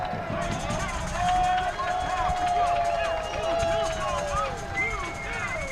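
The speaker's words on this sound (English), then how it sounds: "And listen to this crowd." A soccer stadium crowd at half time in a Western Conference semifinal fills the air with a steady roar of babble and cheers, with talk over it.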